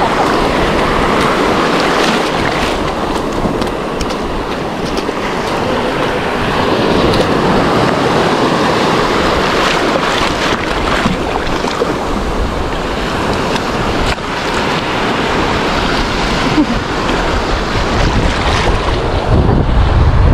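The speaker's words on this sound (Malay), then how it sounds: "Ombak kuat." Strong ocean waves from a tropical storm crash and roar continuously on a fishing beach, with wind buffeting the microphone throughout; no voices, just loud surf rolling in close by.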